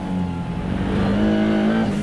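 Maserati MCXtrema track-only car with a 730 bhp engine, heard from inside as it accelerates hard, a loud steady engine drone rising in pitch over two seconds.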